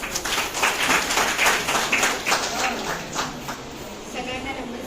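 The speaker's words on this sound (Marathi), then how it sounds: "सगळ्यांसाठी परत एकदा पुन्हा टाळ्या होऊन जाऊ द्या" Audience applause at a women's haldi-kumkum silver jubilee gathering, a sustained round of many hands clapping that gradually thins, with voices murmuring beneath it.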